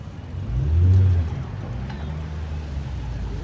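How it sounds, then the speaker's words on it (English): At a car meet, a car engine revs once, swelling into a loud, close roar before falling back to a steady rumbling idle. "God, rev it!"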